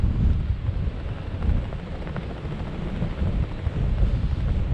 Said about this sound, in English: as you can see by the wind blowing here, by our flag blowing, it is a wee bit drafty